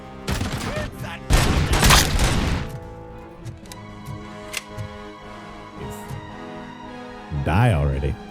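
Heavy automatic gunfire from Robocop Rogue City, a rapid Gatling gun style burst loud near the start, then scattered shots and clatter, with another heavy burst near the end.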